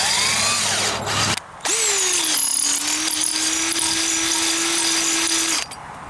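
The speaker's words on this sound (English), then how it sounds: "First thing, get a drill. Okay, this is a 9/32 drill bit." An electric drill with a 9/32 bit bores into a cylinder head of a 460 engine during porting, whining up and then running in a long, steady, close drone with a brief pause early on.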